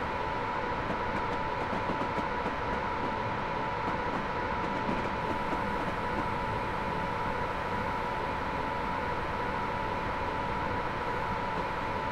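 A Class 87 electric locomotive runs in Train Simulator Classic, giving a steady rail rumble and hum with a sustained mid tone, continuous and even throughout.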